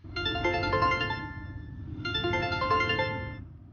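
A phone ringtone plays two identical melodic bursts, bright and electronic, each lasting about a second and a half with a short gap between.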